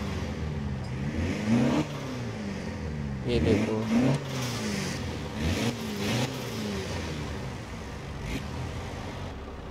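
A Toyota Land Cruiser Arctic Truck engine revs in several rising swells over a steady mid-pitched idle, heard close and fairly loud, with someone briefly speaking at the start.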